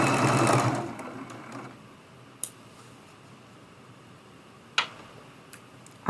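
A sewing machine stitches quilt block pieces in a short, loud burst at the start, followed by near quiet with a few sharp ticks and clicks. No voices are heard.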